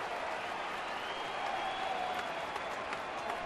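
Distant crowd noise at a baseball game as fans respond to a scoreboard prompt, a steady roaring wash with scattered claps, faint and continuous.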